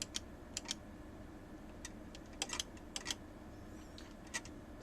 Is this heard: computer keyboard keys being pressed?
yes